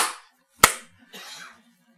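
One person claps their hands once, a single sharp, close smack standing alone, with faint murmuring talk just before and after.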